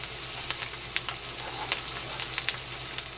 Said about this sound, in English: Now, green onions is the bomb. Here we go. Get that sauteed in there.